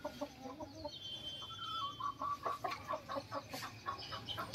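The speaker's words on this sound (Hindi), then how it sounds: "धूप भी निकली आई है, मुर्गियां हमारी मिट्टी में लौट रही हैं।" Chickens dust-bathing in soil on a sunny day, with soft clucks and bird calls rising over a low farmyard background hum, moderately close and fairly faint.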